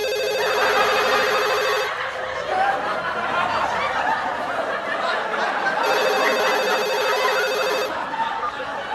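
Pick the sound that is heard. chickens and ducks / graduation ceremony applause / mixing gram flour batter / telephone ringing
telephone ringing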